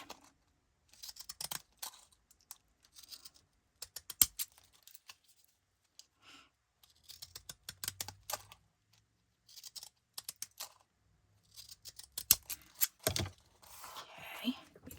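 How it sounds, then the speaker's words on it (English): Scissors snip around a paper feather in a run of quiet, close, crisp cuts with short pauses between bursts, and no voice over them. "we're going to take our scissors, and again, we're going to start trimming around"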